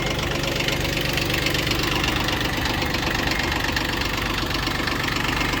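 A Yanmar F15 mini tractor's diesel engine runs steadily and close up, its dense, knocking chug holding an even rhythm from start to finish with no talking.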